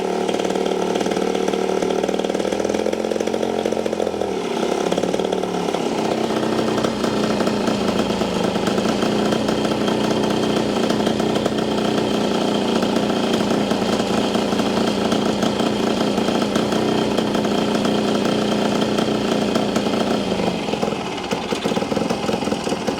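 A small two-stroke engine runs continuously after restarting, loud and close, first revving rough and uneven, then settling into a steady, buzzing high idle that drops slightly near the end.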